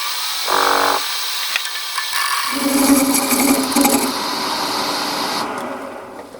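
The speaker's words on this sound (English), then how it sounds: "I might go for the old roughing gouge." A roughing gouge cuts a wooden goblet blank spinning on a lathe, giving a sustained scraping, whirring tone after a brief motor burst and short pause, fairly close and without speech.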